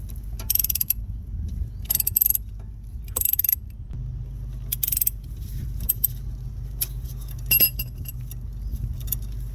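Ratchet on an extension turning a 12 mm steering shaft collar bolt under a 2013–2018 Nissan Altima, heard as short bursts of rapid metallic clicking between pauses, over a low steady background hum.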